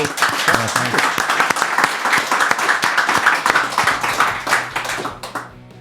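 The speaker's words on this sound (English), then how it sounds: "Big round of applause." An audience claps at the end of a talk, a loud, close burst of many hands slapping in a dense crackling rhythm that holds for several seconds and then trails off quickly toward the end.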